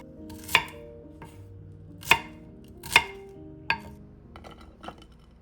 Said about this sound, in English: Chop 2 small shallots into small pieces.